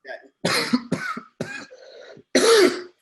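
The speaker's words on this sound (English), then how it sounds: "this cough" A person coughs hard several times in quick rough bursts, close and loud, with a throaty clearing between fits.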